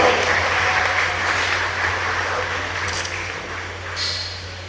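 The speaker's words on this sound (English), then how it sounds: "Please another round of applause for Chika Odua." Sustained applause from an audience, a dense steady patter of many hands that holds fairly loud throughout and eases off slightly toward the end.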